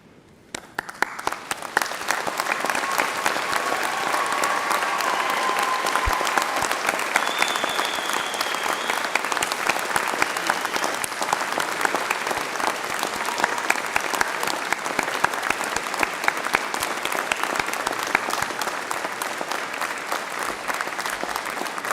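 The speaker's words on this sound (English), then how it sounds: "join me in giving them a well-deserved round of applause" A large graduation ceremony audience stands and applauds graduates' friends and family, clapping building quickly from a few hands into a long, dense, steady ovation lasting about twenty seconds, with faint scattered cheers mixed in.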